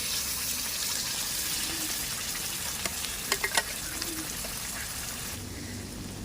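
A paste of tomato, coconut, peanuts and sesame frying in a pan, giving a steady close sizzle with a few brief stirring clicks and scrapes and no voices.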